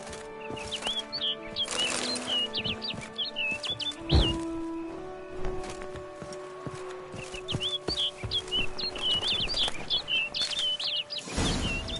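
A bird chirping in The Witcher Blood and Wine, the quick, bright tweets repeating in two lively runs over a steady musical and ambient game backdrop, with a heavy thud and some fluttering in between.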